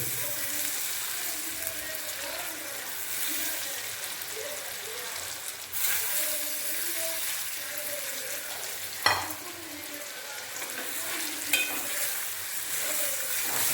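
Fish fry with a steady sizzle in a pan while a utensil stirs and scrapes now and then, with one sharp clatter midway and faint voices in the background.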